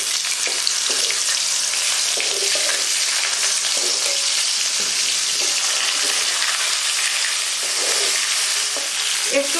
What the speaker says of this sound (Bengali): এই ফোড়নটা একটু ভাজা ভাজা হলে এর মধ্যে দিয়ে দিচ্ছি এই যে ভাপিয়ে রাখা এঁচড়গুলো।